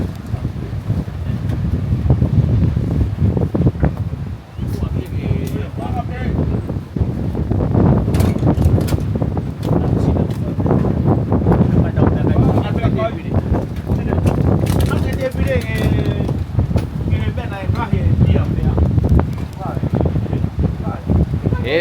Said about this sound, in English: It has been windy today.